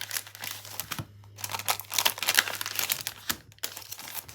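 A paper ephemera pack being opened, with close, busy crinkling and crackling of packaging, irregular tearing and rustling bursts over a steady low hum, no talking.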